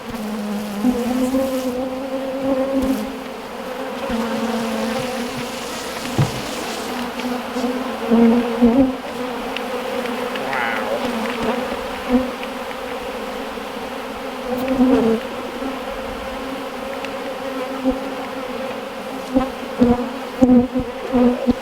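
Honeybees around horizontal beehives with frames full, giving a dense, steady close-range hum of many insects that runs throughout with small swells, and no talking.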